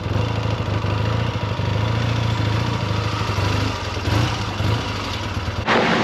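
A 1976 Triumph T140V Bonneville motorcycle engine idling close by, a steady low throbbing rumble that holds evenly throughout with a brief rise near the end.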